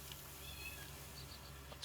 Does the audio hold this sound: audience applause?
no